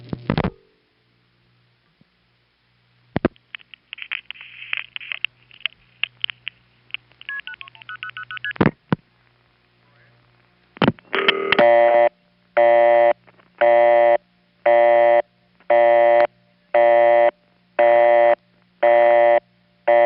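A 1977 recording of a panel telephone switch: scattered clicks and faint tones give way to a loud, evenly spaced train of buzzing revertive pulse bursts with short gaps between them.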